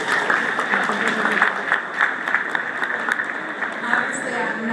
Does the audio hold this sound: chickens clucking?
no